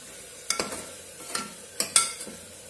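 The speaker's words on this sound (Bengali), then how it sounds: "টমেটোটাকে কষাতে কষাতে কিছুটা আমি কাঁচা লঙ্কা দিয়ে দিচ্ছি" Tomatoes and green chillies being sautéed in a pressure cooker, several sharp spoon scrapes and knocks against the metal at irregular intervals over a soft background sizzle.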